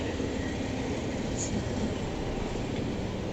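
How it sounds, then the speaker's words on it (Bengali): A train rolls past at night in Dhaka on a cold winter evening, people sitting on its roof, producing a steady, loud, close rumbling roar that holds evenly for several seconds. "ট্রেন যাইতেছে"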